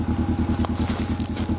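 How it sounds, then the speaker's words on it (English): A Kawasaki Mule Pro FX utility vehicle idles with a steady, rapid low-pitched engine pulse, loud and close, with a brief faint clack midway. "I've got the engine just idling on this right now"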